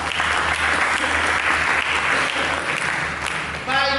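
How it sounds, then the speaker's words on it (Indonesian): Church congregation applauding together during a worship service, a dense steady wash of clapping throughout that thins slightly near the end. "Mari kita sambut dengan tepuk tangan saudara."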